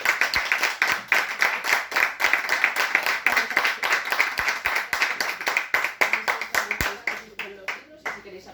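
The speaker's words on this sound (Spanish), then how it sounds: "vamos a darle un aplauso." A small audience at a book presentation in a bookstore claps in a loose, close rhythm of distinct hand strikes, tapering off near the end as murmured voices emerge.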